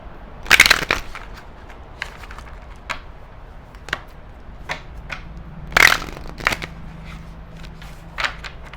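Moonology oracle cards are shuffled by hand, with two loud bursts of riffling card flaps and scattered softer clicks and taps between them, close and clear with no talking.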